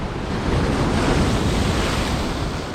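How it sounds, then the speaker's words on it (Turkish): Heavy surf crashes and roars continuously, a dense wash of breaking waves with wind buffeting the microphone throughout. "Oo dalgalar çok sinirli."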